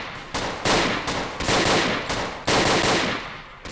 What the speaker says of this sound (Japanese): ゾンビが撃ってきてんだよな。